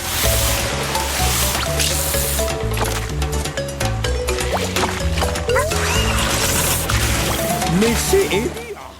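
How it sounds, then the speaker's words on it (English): Water jets splash steadily against a floating boat in a Yoshi video game, with wet squishing and dripping effects over a bouncy music track that runs throughout. "we just need to keep pummeling it with our water jets"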